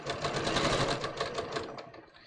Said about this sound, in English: So basically I'm just going to stitch to there.